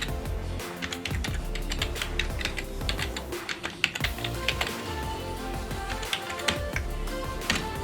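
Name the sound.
typing tags on a computer keyboard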